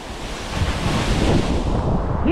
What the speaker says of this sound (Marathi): आणि आपल्या पाठीमागा असा या कादळ डोंगरातून चिरून या जागेवरून धबधबा खाली पडत आहे